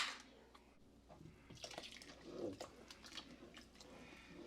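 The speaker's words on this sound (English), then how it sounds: "Time to add beer." Beer from a 12-ounce can pours and splashes softly into a soup pot, quiet and close, with faint trickling and bubbling over a few seconds.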